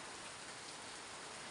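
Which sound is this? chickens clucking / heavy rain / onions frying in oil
heavy rain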